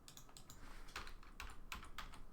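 Number keys along the top row of a computer keyboard are tapped in quick, light clicks, fairly faint and close, with several distinct keystrokes in a short run.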